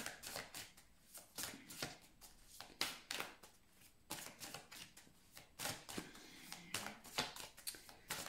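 Tarot cards shuffled and drawn for a Gemini reading, quick papery flicks and riffles in irregular bursts, close and soft with no talking.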